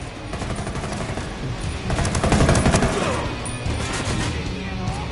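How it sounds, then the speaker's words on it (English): Sustained gunfire in Ghost Recon Wildlands crackles at close range, with a rapid automatic burst swelling loud in the middle under shouted voices. "I'm opening fire on these shitheads."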